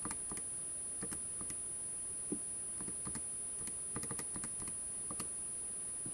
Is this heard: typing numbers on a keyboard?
yes